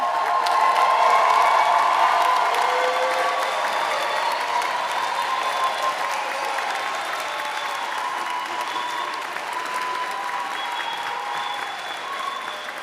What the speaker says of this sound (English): Please clap for everybody who has been here to support you and encourage you.